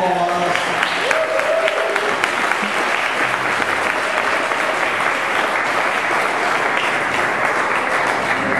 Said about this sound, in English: Let's give her the first round of applause.